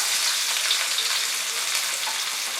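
Chopped carrot, capsicum, cabbage and onion for veg chowmein fry over high heat, giving a loud, continuous, even hissing sizzle throughout with no talking.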